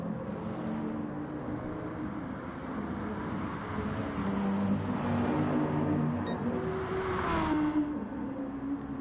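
BMW M6 GT3 race car engine in a racing game at Brands Hatch, a moderate droning roar that rises as the car accelerates, with other cars whirring nearby and the engine note climbing late on.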